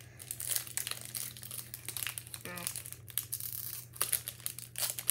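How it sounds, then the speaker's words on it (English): Close crinkling and tearing of a Pokémon Chilling Reign foil card pack opened without scissors, irregular rustles and rips with a person talking nearby. "open your Chilling Rain pack first"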